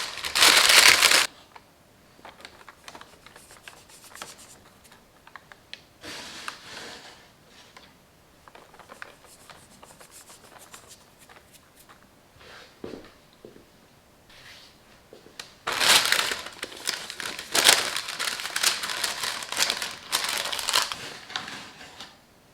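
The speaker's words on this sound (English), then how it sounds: "Line a mixing bowl with some baking paper and place the dough into it." Baking paper crinkles as it lines a mixing bowl and bread dough is dropped in, with loud crisp rustling bursts at the start and again near the end, and quieter handling rustles between.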